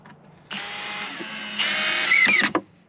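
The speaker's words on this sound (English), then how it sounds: "So I'm going to add a couple extra screws." A power drill drives extra screws into a wooden box trap built for pine marten and fisher. The motor whines steadily for about two seconds, growing louder near the end before cutting off, with no talking.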